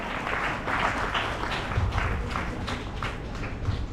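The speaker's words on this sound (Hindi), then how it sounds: "आप लोग तालियां बजाते रहें" Audience applause fills a hall at a national seminar on tribal voices of India, a dense, steady wash of many hands clapping at moderate level for the whole stretch, with no speech over it.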